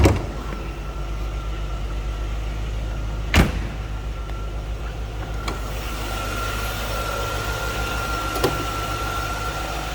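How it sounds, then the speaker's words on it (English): A 1996 Chevrolet Corvette Collectors Edition convertible with a 5.7-liter 350 V8 idles steadily while its hood is released, giving one sharp latch clunk midway and a couple of lighter clicks later over the constant engine hum. "Let's go ahead and pop the hood on this one"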